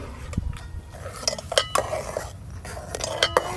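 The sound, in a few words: stirring chhena payesh with cashews and raisins in a pot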